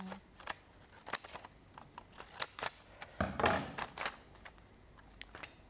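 Scissors trim foam pads in a crafting session, giving a series of quiet, crisp snips at an uneven pace, close by and alone with no talking.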